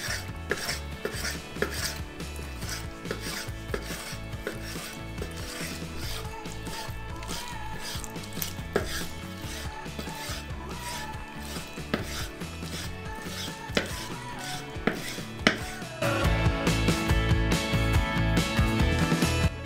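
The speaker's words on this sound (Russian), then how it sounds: "И нарезаем мелким кубиком, чтоб красная рыба чувствовалась в конечном блюде." Knife dicing skinned red fish fillet into small cubes on a board, rapid repeated chopping taps in an even rhythm, growing denser and louder toward the end, no talking.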